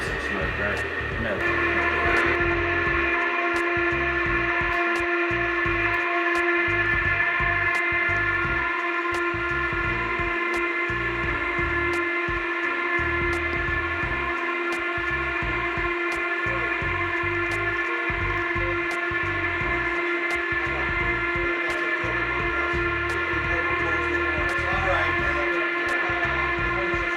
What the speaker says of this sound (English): we're realizing that the horn is going quite well all the way around